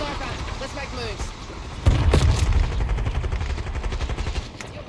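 Gunfire in a Call of Duty Warzone match, a sudden burst of shots followed by rattling fire and game noise, with players talking over it.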